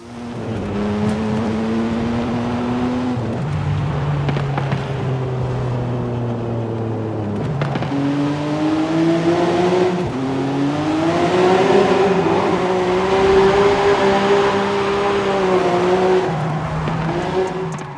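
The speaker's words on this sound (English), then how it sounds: "Also the stock exhaust sounds amazing." A drift car with stock exhaust in Forza Horizon 5 revs and drones loudly with shifting pitch, rising and falling as it accelerates, tires squealing faintly, continuous and close with no talking.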